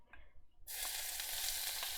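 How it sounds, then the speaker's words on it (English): Food for chicken noodle soup sizzles loudly in a pot on a stove, a steady close hiss that starts abruptly after a brief quiet moment and continues without talk. "Ooh, that sizzle."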